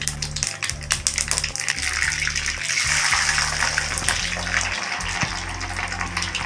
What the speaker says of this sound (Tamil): எண்ணெய் கொஞ்சம் கடாயில் தாராளமாகவே விட்டுக்குங்க. கடுகு உளுந்து